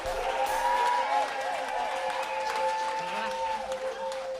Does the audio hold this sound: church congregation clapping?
yes